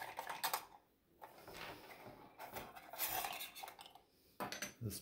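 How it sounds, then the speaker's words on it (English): Dining-room hanging light fixture cover being taken off: clinking and rattling of small metal and glass parts in short bursts with brief pauses, close and fairly quiet. "So we'll remove this cover."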